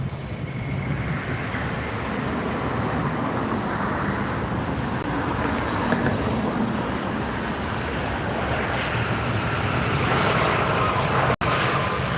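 A Turkish Airlines jet at LAX airport roars steadily as a broad, continuous engine rumble that stays loud and even throughout, with no voices.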